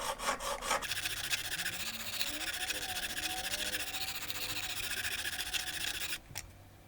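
A knife blade is drawn across the abrasive of a Work Sharp Precision Adjust sharpener while raising a burr, making close, steady rasping strokes that end in a short pause and a final light scrape.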